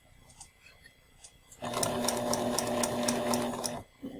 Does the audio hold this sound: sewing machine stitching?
yes